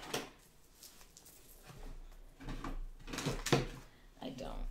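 A drawer slides open and its contents are rummaged through with soft clatters and scrapes, close by and fairly quiet, mixed with low speech.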